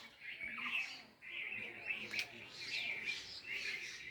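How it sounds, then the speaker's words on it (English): Birds chirp and tweet in a natural outdoor setting, a dense run of bright, overlapping calls that continues with brief dips for about four seconds. "The chirping sound of birds is the gift of God."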